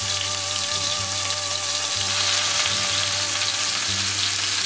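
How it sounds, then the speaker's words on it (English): Steak and portobello mushrooms sauté in a hot pan with a loud, dense, unbroken sizzle and crackle that holds steady throughout, close up. "I'm going to kind of saute them along with the steak"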